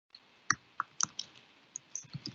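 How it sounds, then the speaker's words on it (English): Typing on a keyboard into an online meeting chat box, a quiet uneven series of about a dozen sharp key clicks, close and alone. "sorry, I'm just typing this in the chat box"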